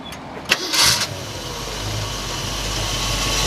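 A 1965 Ford Mustang GT Fastback engine cranks briefly and catches, then settles into a steady, low idle that hums on without any talking.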